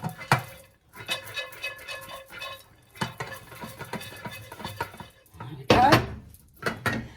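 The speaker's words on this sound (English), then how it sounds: "Lid back on. And then I'm going to give it a really good shake." Popcorn in a lidded pot, freshly salted, shaken hard so loose kernels rattle and thump against the metal in several bursts, fairly close and loud, with a scraping clatter near the end.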